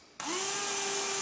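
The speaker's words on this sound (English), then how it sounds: "as long as you're drilling your hole right in the center" A power drill bores a hole in a QL 250 Mini+ quadcopter frame, kicking in abruptly with a loud, steady whine held close and alone.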